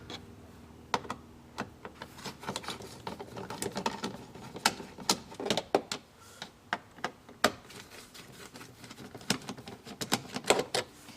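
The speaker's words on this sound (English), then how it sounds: "So first we take our Phillips screwdriver and remove the 3 Phillips head screws." Phillips screwdriver backing out three Phillips head screws from a Focal mid-range car speaker in a Ferrari 430/360, heard as close, irregular dry clicks and ratcheting ticks with no talking.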